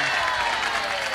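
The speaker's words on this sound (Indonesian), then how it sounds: "Tepuk tangan guys" A short stretch of clapping during a home visit, a close, steady patter at moderate level with a hint of background murmur.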